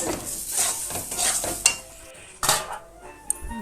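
A spoon stirs spicy semolina in a pan, giving scraping, gritty strokes with faint sizzling between them, close up and irregular.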